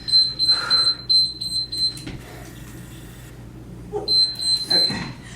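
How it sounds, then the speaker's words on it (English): Workout timer beeping: a thin high electronic tone sounding in two short runs, at the start and again near the end, with brief speech and breathing around it. "I knew it was gonna beep again."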